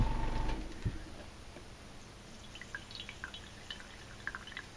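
Water swishes and drips as it is flushed through the paint bowl of an airbrush during cleaning, faint and close, with soft trickling and small intermittent drip ticks and no talking.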